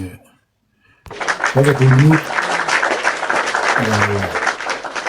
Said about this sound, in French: on met applaudissements